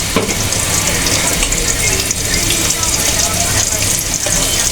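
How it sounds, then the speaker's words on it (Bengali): Onion fries in oil in a pot with a loud, close, continuous sizzle and crackle, and occasional stirring scrapes sound through it. "তেলটা দিয়ে দিয়েছি পেঁয়াজটা দিয়ে দিচ্ছি"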